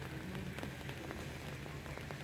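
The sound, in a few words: light rain falling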